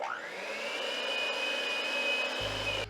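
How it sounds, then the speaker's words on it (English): An electric mixer whirs steadily through pumpkin cheesecake batter, a sustained close motor hum with a high whine that holds level for a few seconds before cutting off. "Now we take our time and turn our mixer on and bring all this together."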